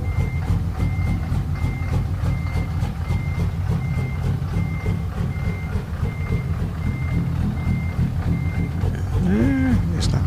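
A reversing truck sounds evenly spaced backup beeps over a loud, steady diesel idle, the beeping regular and fairly near throughout, with a brief squeal of an air brake near the end.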